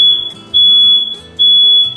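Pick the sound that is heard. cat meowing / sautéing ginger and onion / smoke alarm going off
smoke alarm going off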